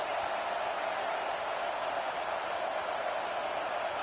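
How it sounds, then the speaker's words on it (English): Roaring stadium crowd at a college football game, a loud, steady wall of cheering and noise with no breaks, filling the whole stretch evenly. "Listen to this crowd just shaking the girders of this place,"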